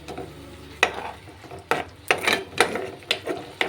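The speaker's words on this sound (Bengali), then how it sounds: "আদা বাটা দিয়ে এরপরে কিন্তু আমি মশলাটাকে অনবরত নাড়াতে থাকবো" Ginger paste and spices get stirred in hot oil in a pan, a soft steady sizzle broken by several sharp scraping clacks of a spoon against the pan, close and with no voices.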